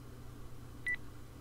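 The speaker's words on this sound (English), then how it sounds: "Oh, we can dial the phone." Touch-tone telephone in a video game being dialed: a single short electronic dial tone, clear and close over a low steady background hum, with no one talking.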